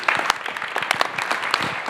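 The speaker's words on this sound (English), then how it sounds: "And now you may applaud and take a coffee." Conference audience applauding at an architecture and façade design event: dense, loud clapping from many hands filling the room steadily for the whole stretch, without talking.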